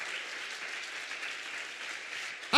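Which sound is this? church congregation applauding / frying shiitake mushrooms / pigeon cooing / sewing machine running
church congregation applauding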